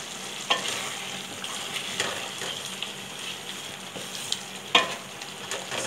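Chicken karhi masala with green chillies, ginger and coriander fries on high heat, a steady close sizzle broken by repeated scraping stirs of a spoon against the pan, with no talking.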